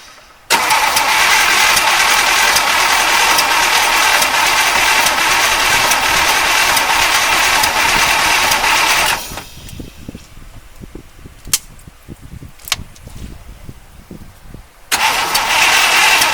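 A 1953 Oldsmobile Rocket Super 88 barn find starts up with a loud, steady roar that runs for several seconds, then cuts out. After that come a few clicks and quieter rattles before the engine noise resumes. It is close and loud, with no voices.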